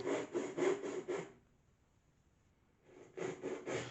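A restored vintage hand saw cuts through wood in quick back-and-forth strokes, about five rasping strokes in a burst, a pause of near silence, then another run of strokes, close and clear.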